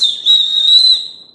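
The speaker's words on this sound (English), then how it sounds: "So like an emergency whistle or whatever." A shrill emergency whistle from a hurricane emergency bag, sounded once in a single sustained piercing blast lasting about a second, loud and close with nothing else audible.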